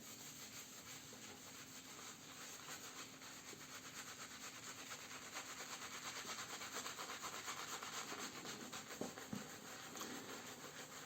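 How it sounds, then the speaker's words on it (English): Boar bristle shaving brush working lather from an Arko shave stick, a soft continuous scratchy rubbing and swishing close by, steady and gentle throughout with a few small clicks near the end. "I'm starting with my boar brush"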